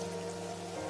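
Heavy rain falls in a dense, steady hiss that stays even throughout, with a low hum running underneath.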